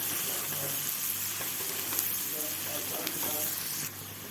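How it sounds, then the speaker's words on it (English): Spring onions sautéing with mixed vegetables in a pan for chilli-garlic noodles, a steady soft sizzle with occasional stirring clicks, moderately quiet and close. "And now adding in the spring onions, that is 1 cup. Sauteing it together."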